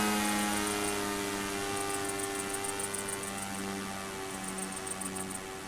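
A WWII B-25 or B-24 bomber in an RC flight simulator game drones with a steady multi-engine propeller hum and pulsing high whine, loud and continuous throughout with no talk.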